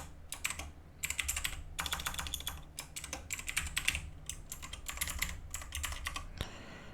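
Fingers type a password on a computer keyboard in quick, uneven bursts of crisp key clicks separated by short pauses, close by and fairly quiet, with no voices.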